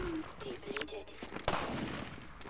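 Gunfire in the video game Half-Life 2: Episode One, a few quiet shots and one sharper report partly under a talking voice.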